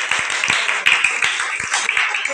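A school class applauds a student, a short burst of brisk clapping from a group of hands, close and fairly loud, lasting only a couple of seconds.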